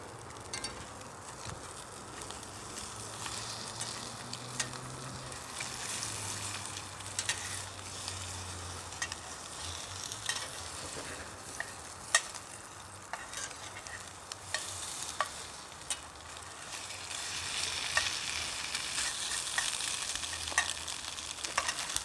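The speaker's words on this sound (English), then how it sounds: "I'm cooking 2 eggs" Two eggs fry in bacon grease on a small gasifying wood stove, a steady close crackling sizzle with occasional sharp pops running throughout, no voices.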